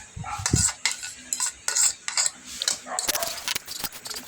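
Cooked rice mixed with egg being stirred in a frying pan, with rapid irregular clinks and scrapes of a spoon on metal, fairly close and loud, with brief speech in the background.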